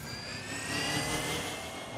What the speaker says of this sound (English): Good thing I found a recon drone.